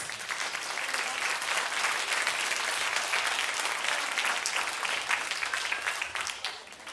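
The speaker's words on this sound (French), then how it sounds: "Donc on va l'applaudir" A steady, full round of applause from a concert audience at a wind ensemble jazz performance, close and dense for several seconds, easing slightly toward the end.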